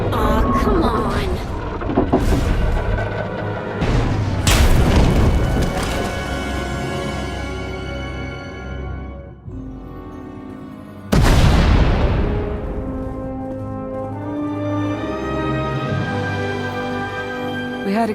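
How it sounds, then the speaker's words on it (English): Loud booming explosions in Star Wars: The Old Republic burst out in succession as a tunnel collapses, with a second big blast midway, over a layered game soundtrack with music and rumbling effects. "We heard explosions. The tunnel collapsed."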